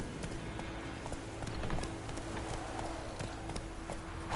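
A horse gallops in The Witcher Wild Hunt video game, its hooves pounding in a steady rapid clip-clop rhythm at moderate level over a constant background bed, with no talk.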